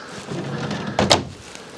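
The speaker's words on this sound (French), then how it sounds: "Ici, on va avoir un tiroir qui s'ouvre. Je veux dire un placard qui s'ouvre comme ceci." A wooden kitchen cupboard door in a Rapido motorhome opens with a soft creaking rustle followed by two quick sharp knocks, close and fairly quiet.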